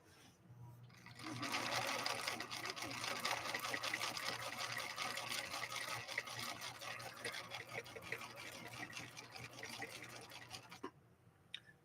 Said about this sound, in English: using a zigzag on material like this